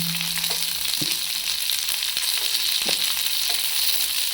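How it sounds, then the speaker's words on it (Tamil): Ginger and garlic sauté in a pan for mutton curry, producing a loud, even hiss of frying with a few soft knocks of stirring, close up and without speech. "போட்டு நல்லா வதக்கிடணும்"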